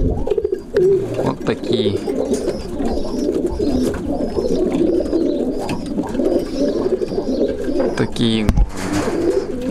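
Pigeons of a newly acquired breed coo steadily in a loft, a continuous low burbling close by, with someone talking briefly over them.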